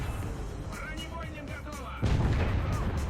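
A Soviet IS-2 heavy tank fires its main gun in War Thunder, one loud, close cannon blast about two seconds in after engine rumble, with someone speaking Thai over it.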